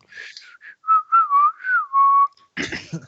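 A person whistles a short wavering tune of several sustained notes with brief pauses, clear and close, and a burst of talk or laughter follows at the end.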